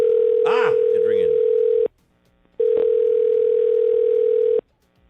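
Two long, steady telephone ringback tones sound, loud and close, separated by a short silence, with a brief voice over the first.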